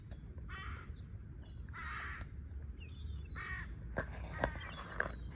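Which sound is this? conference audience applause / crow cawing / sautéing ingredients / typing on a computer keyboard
crow cawing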